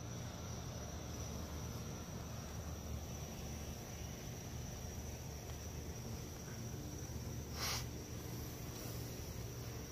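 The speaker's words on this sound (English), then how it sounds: "Sorry if the crickets are really loud too," Crickets chirp at night outside a police department and jail complex in Fort Myers, Florida, a dense, steady, high-pitched drone that runs unbroken throughout at moderate loudness.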